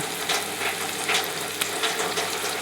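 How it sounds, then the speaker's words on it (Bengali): Onions with ginger, cumin and garlic paste frying in oil for a red beef curry, a dense continuous sizzle with soft scraping stirs, close and steady. "সব বাটা মশলা দিয়ে পেস্টের ভাজা ভাজা করছি"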